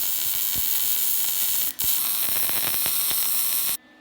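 A seam on a car exhaust header being welded: a steady, close crackling sizzle with scattered pops and one brief break, ending abruptly.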